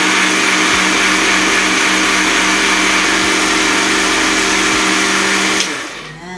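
An electric blender on speed 2 whirs loudly and continuously while making buko juice from young coconut, its motor humming steadily close by before spinning down near the end.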